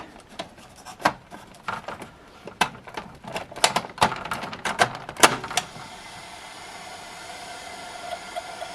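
Clicking, scraping plastic sounds as an 8-track tape cartridge is fumbled and pushed into a Panasonic player, a series of sharp knocks followed by a quieter hum.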